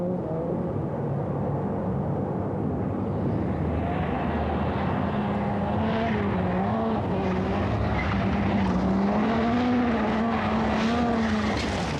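Ford Sierra Cosworth rally car on a stage, its engine droning steadily throughout with wavering pitch and a rough, uneven note from a constant misfire, close and loud with no voices.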